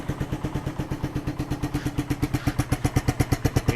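A Raider 150 motorcycle fitted with a Daeng 4 pipe exhaust fires up and settles into a loud, close, lumpy idle with rapid regular pulses that grow slightly stronger toward the end.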